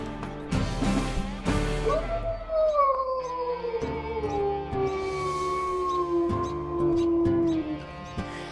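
A wolf howl from the video game WolfQuest: Return of the Pack, a long, clear, gliding tone that rises and then slowly falls. It is heard after a few sharp knocks and over a busy in-game background.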